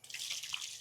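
Faint, steady hiss of strong-flowing water running from a tap at a riverside campsite in Botolan, Zambales, a soft continuous splash with no voices.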